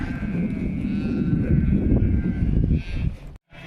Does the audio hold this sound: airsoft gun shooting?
no